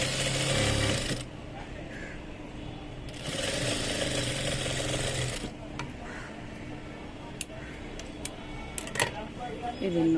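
A domestic sewing machine stitches a seam in cloth in two loud bursts of rapid whirring, each about a second or more long, separated by quieter handling noise and light clicks.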